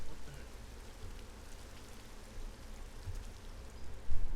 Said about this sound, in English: Somebody's making it rain.